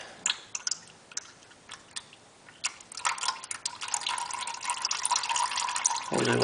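Engine oil drains from the drain plug of an Infiniti G37S: scattered drips give way to a steadier, trickling pour, faint and close, with a brief metallic clink near the end.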